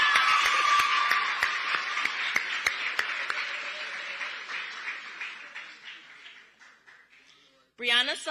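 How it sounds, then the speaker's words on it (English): At a teacher cadet conference opening ceremony, an audience gives another round of applause. The clapping starts full and steady and fades gradually over several seconds, and then a voice begins speaking. "Let's give her another round of applause, please."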